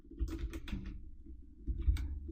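Fingers tap on a computer keyboard while entering a table name in SAP, a few quick close bursts of keystrokes separated by a short pause, quiet and with no talk.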